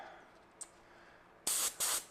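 Tubeless tire sealant hisses out of a road bike's front wheel valve in short bursts of spray: a faint tick, then one long loud spurt, a brief gap, and a second burst, close up and alone.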